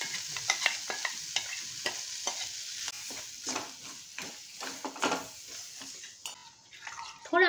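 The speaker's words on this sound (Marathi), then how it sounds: "मध्ये मध्ये ढवळत राहायचं, नाहीतर मिरच्या खाली लागू शकतात." A besan mixture with green chillies fries in a pan while a spoon stirs it now and then, making quiet intermittent scrapes and taps over a faint sizzle, ending in a louder clatter.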